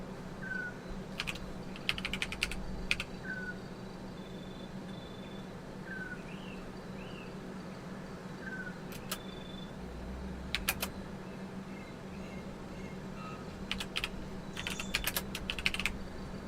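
Clicks of a computer keyboard come in scattered bursts of quick keystrokes, soft and close, with quiet gaps between them and faint electronic chirps in the background.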